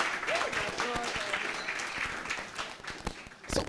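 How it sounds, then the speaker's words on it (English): Audience applause at a hosted chat event, a few seconds of dense clapping that stays steady and fairly close, with a voice speaking over it. "Let's give her a round of applause."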